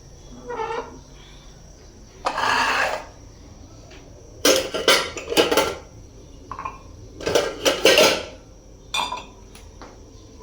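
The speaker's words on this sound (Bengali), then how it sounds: "ধুয়ে নিই কাপগুলা" Cups and dishes are washed, with bursts of running water and clattering, clinking crockery in uneven clusters, close by, separated by brief quiet gaps and a faint steady insect-like whine behind.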